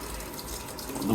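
Water runs steadily from a hot tap fed by a Worcester Bosch compact combi boiler that is delivering only cold water, a continuous close hiss that swells slightly toward the end.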